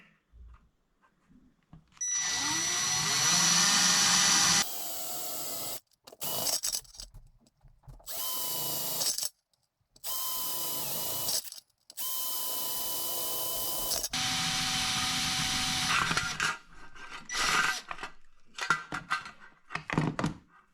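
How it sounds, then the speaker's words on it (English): A power drill whines loudly in repeated bursts as it bores holes into a tin, separated by short pauses and occasional knocks. "we're going to drill, I don't know, we'll drill maybe 12 holes"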